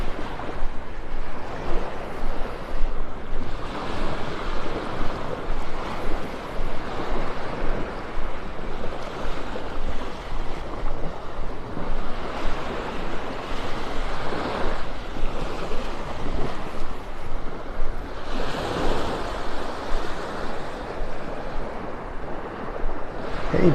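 Surf breaking steadily on an unspoiled Gulf beach at Delnor-Wiggins Pass State Park in North Naples, Florida, with constant wash and swell under gusts of wind buffeting the microphone, no voices.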